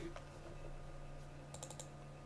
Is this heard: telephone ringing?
no